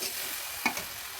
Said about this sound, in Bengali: সো গ্যাসটাকে কমিয়ে দিয়ে সুন্দরভাবে নাড়িয়ে চিনিগুলোকে গলিয়ে নিতে